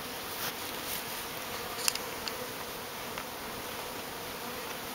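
A steady, dense hum of many honeybees buzzing nearby during installation of a package of bees into a hive, with a few faint clicks and taps over the drone.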